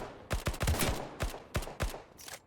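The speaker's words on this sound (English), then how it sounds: "Now who's shooting at me?" Gunfire in the video game Passed Out: Prologue: a rapid string of sharp shots in short irregular bursts, close and punchy, with no talking.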